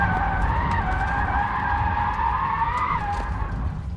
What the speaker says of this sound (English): It definitely drifts. Feel sorry for the tyres though.